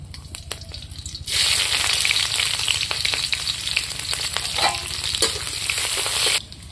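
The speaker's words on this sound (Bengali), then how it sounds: "গরম হয়ে গেছে, আমি এখন তেজপাতাটা দিয়ে নেই, 2টা কাঁচা লঙ্কা দিয়ে নেই, পেঁয়াজ কুচিটা দিয়ে নেই" Bay leaf, two green chillies and chopped onion hit a hot wok with a sudden loud sizzle that holds steady for about five seconds before cutting off, after a quieter stretch of faint stirring.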